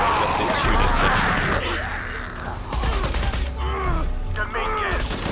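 Gunfire in the video game Shadow of the Tomb Raider: a rapid burst of shots, then scattered single cracks and mechanical clatter, mixed with voices talking over the fight.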